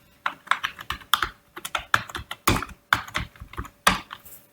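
Fast typing on a computer keyboard, close and crisp, with bursts of key clicks and heavier spacebar or enter thumps in an uneven rhythm, no voice.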